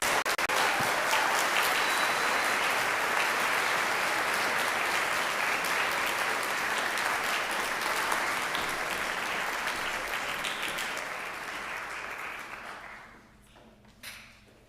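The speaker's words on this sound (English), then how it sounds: "So let's give them a nice big round of applause this evening." A school orchestra concert audience claps loudly and continuously in a high school auditorium for about thirteen seconds, then the applause tapers off and fades to near quiet, with no voices heard.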